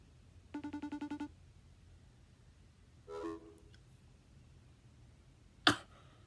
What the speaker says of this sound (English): Okay, she didn't answer the phone.